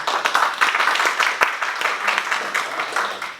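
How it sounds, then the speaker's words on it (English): A club audience at an evening meeting applauds a mentor with sustained, dense clapping from many hands, steady and fairly loud for the whole stretch. "he got more applause than me"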